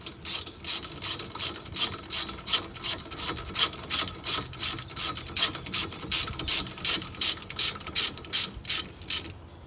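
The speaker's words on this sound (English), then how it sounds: "And then you can tighten them up, tighten them down." A ratchet wrench tightens the caliper bolts during a brake pad replacement on a 2005 Acura RSX DC5, giving rapid, evenly spaced metallic clicks in steady repeated bursts, close and clear with no talking.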